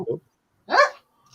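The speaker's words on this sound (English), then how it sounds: "That's my dog being annoying." A dog barks near the listener in a few short bursts: a low yelp, then a louder, fuller bark, with a faint trailing noise after it.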